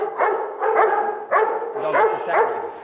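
A Doberman guard dog barks sharply several times in quick, uneven bursts, close and loud, with a few higher yelping notes mixed in.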